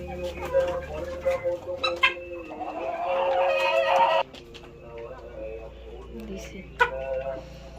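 Tiger-breed chickens about three and a half months old, with roosters near 3 kg, cluck and squawk close by in short bursts while people talk over a steady background hum.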